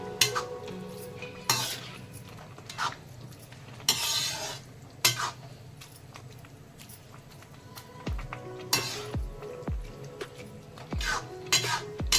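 Carrot halwa being stirred into milk in a pan, with repeated scraping and clinking of a spoon against metal, soft bubbling underneath and a few louder knocks near the end.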